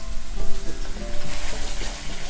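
Eggs and canned fish being stir-fried in a hot pan give a steady, close sizzle, with the crackle rising and falling as the mixture is stirred; no one speaks.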